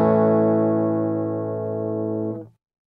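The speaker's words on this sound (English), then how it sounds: "now if I play my guitar" An electric guitar is played into Cakewalk and monitored: a single loud, sustained chord rings with slight fuzz for over two seconds, then cuts off abruptly, with no talking.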